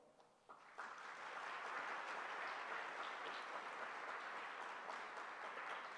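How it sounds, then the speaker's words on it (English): Audience applause at a lecture on jali lattice and divine light, starting with a few claps, then quickly building into steady, even clapping from a sizable crowd that holds to the end, fairly distant and soft. "let me propose a round of applause for them"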